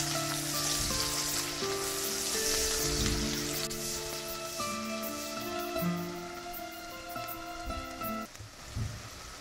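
Cumin seeds sizzling in hot oil for a fish fillet curry with beans, a steady bright crackling fry heard close and alone, with faint clinks toward the end.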